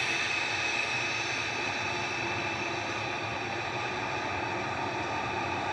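A KLM Boeing 737-700 jet departing Manchester Airport for Amsterdam produces a steady hissing engine roar, moderately loud and unbroken, slightly stronger at the start, with no voices over it.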